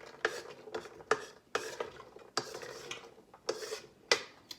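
Dried beans rinsed and stirred in a pot, a run of about seven scraping, clattering strokes against the pot in an uneven rhythm, close and fairly quiet, no voices.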